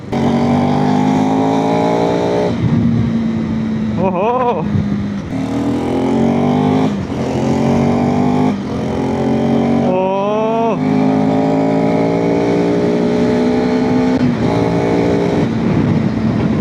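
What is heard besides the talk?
motorcycle engine and exhaust while riding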